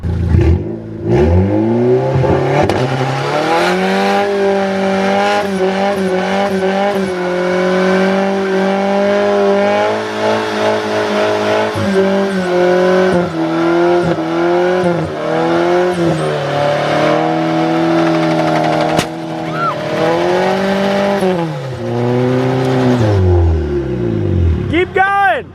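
A car does a burnout on a spare tire, with the engine revving hard and rising and falling in pitch under a continuous loud tire squeal for the whole stretch. Voices are heard over it.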